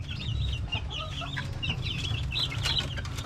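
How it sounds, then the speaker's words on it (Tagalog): A group of one-month-old chicks raised on a Filipino poultry farm, peeping and chirping continuously in overlapping high calls over a low steady background rumble. "So yan yung mga 1 month old natin na mga sisiw."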